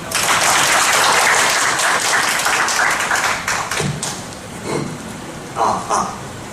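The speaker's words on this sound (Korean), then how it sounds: "인정해 주시면 박수 한번 주십시오." Lecture-hall attendees, a group of professors at a teaching workshop, clap loudly and densely, then the applause thins into a few scattered claps that trail away.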